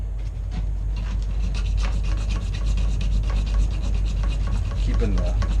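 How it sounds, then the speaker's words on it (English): A hacksaw cuts through class 200 PVC pipe near a fitting with dense, continuous back-and-forth rasping strokes, close and loud throughout. "Keeping the hacksaw blades parallel with this as much as we can"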